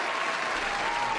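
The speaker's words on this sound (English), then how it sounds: "2 rounds of applause." Dense, loud applause from a crowd, a continuous roar of clapping filling the short moment without pause.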